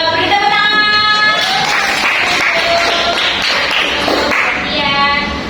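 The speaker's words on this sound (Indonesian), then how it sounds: "Beri tepuk tangan." A third-grade math class claps together in the classroom. The loud, close clapping is mixed with children's excited voices and shouts throughout.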